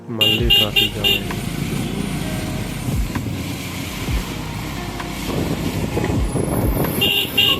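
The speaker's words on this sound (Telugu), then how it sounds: "మళ్ళీ ట్రాఫిక్ జామ్ అయింది" Road traffic jam on the NH44 highway, with loud engine rumble from cars, trucks and motorcycles and several short horn toots near the start and end, all close by, with voices over it.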